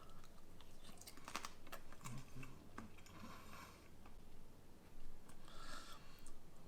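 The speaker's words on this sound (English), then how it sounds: "You probably heard me bite into it. That skin is pure crunch." Crispy deep-fried pork belly skin, lechon kawali, bitten and chewed up close, giving a cluster of sharp crunchy cracks followed by softer chewing crunches, with no talking.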